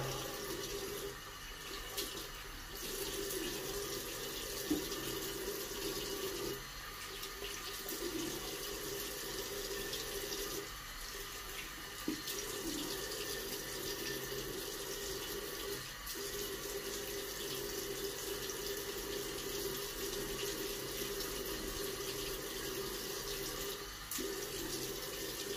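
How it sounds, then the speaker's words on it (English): Tap water running steadily into a bathroom sink during a rinse after a shave, a continuous close hiss that holds for the whole stretch with small shifts in flow and no talking. "I'm going to rinse"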